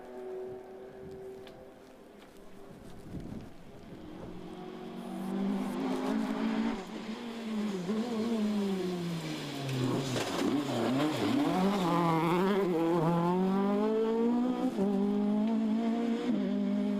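Rally car at the Clonakilty Hotel West Cork Rally held at full throttle, engine note rising and falling through gear changes as it approaches and passes, loud and close for most of the stretch.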